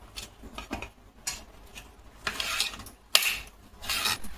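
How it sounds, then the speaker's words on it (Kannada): A knife slices jackfruit bulbs thinly in a village kitchen, giving irregular soft scraping cuts and taps, faint and close, with no talking. "ಹಲಸಿನಕಾಯಿ ಸೊಳೆನ ತೆಳುವಾಗಿ ಚಿಪ್ಸಿಗೆಲ್ಲ ಕಟ್ ಮಾಡ್ತೀವಲ್ವಾ ಹಾಗೆ ಕಟ್ ಮಾಡ್ಕೊಳ್ಳೋಣ."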